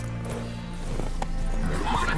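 Roach, the horse in The Witcher 3 video game, lets out a clear neigh and whinny, with hoof clip-clop mixed in. The sound is close and fairly loud over a steady game background.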